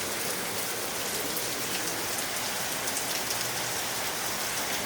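Steady heavy rain falls outdoors at night, a dense, even hiss of drops spattering on surfaces, close and constant with no talking.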